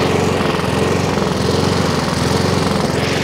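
A Honda Izy petrol lawnmower engine idles steadily nearby, a constant buzzing drone with a fast regular pulse and no change in pitch, loud and alone with no talking.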